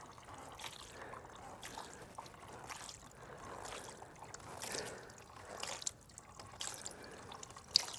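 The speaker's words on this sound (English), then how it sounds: "This was the first part of my day, is draining this diesel." Diesel fuel draining and dripping from a Bobcat 331 mini excavator, heard as faint, scattered drips and trickles at irregular intervals against a quiet background.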